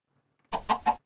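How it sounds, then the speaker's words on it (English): A Minecraft chicken gives three quick close clucks in a short burst, clear against silence. "So, we got chickens."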